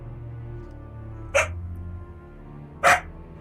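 Two sharp dog barks in The Witcher 3 game, about a second and a half apart, standing out clearly over a steady low ambient hum.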